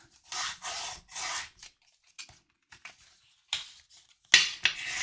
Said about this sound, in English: we will score burnish all of those sides so they're nice and sharp